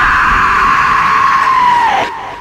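A woman's long, piercing scream, used as a sound effect in a horror story, rings loud and sustained for about two seconds before cutting off abruptly.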